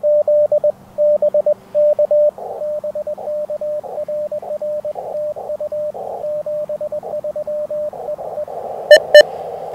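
Morse code CW tones received on a ham radio on the 40 meter band, with steady bursts of dots and dashes in a single clear pitch over faint background hiss, and a brief click near the end.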